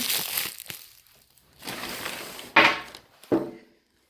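Objects set down on a glass tabletop during an unboxing, a few separate knocks and clatters with rustling between them, the sharpest two near the end, fairly quiet and close.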